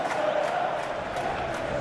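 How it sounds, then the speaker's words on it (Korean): Football supporters roar in the stadium before a Premier League match between Burnley and Liverpool, a steady, dense crowd din that carries on without a break. "선수들의 활약을 기대하는 서포터들의 함성이 경기장을 가득 뒤덮고 있습니다."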